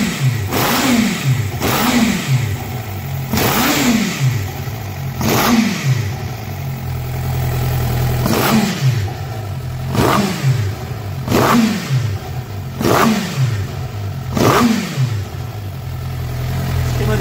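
A Suzuki GSX-R750 GP motorcycle engine with a misfire, having its spark plugs changed, revs hard in repeated loud bursts roughly every second and a half over a rough, steady idle.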